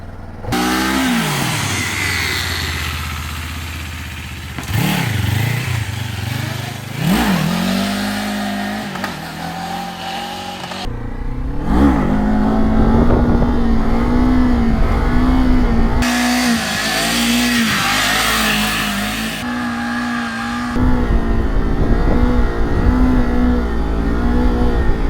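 Kawasaki motorcycle engine revving hard and pulling away, loud and close, with rising and falling pitch as the rider shifts through gears over a sustained run.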